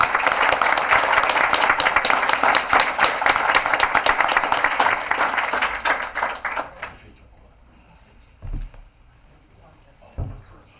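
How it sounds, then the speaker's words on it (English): A school committee meeting audience applauds its retirees. Loud, dense clapping runs steadily for about six seconds, then fades out, leaving a couple of isolated thumps in a quiet room. "How about a round of applause for all of our retirees?"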